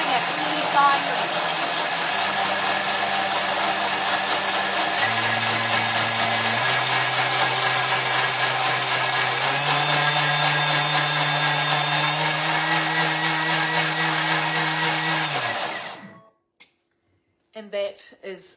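Thermomix blending mint lemonade with ice, its motor whining steadily and stepping up in pitch through several stages as the speed rises to 10, loud and continuous before cutting off near the end.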